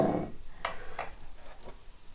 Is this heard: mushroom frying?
yes